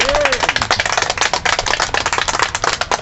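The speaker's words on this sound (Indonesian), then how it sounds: "Tepuk tangan buat Bali" Talk show audience in Bali claps in a brisk, fairly close round, the individual hand claps rapid and sharp, with a brief voice or tone at the start.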